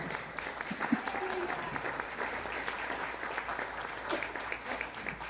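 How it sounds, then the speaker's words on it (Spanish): Church congregation applauding at a sermon, a steady wash of claps filling the space with a faint voice or two underneath. "Mejor denle el aplauso a Castro."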